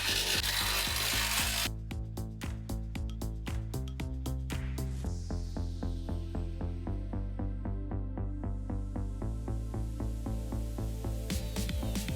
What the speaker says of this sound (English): drilling the support holes for the future bolts, and then tightening everything down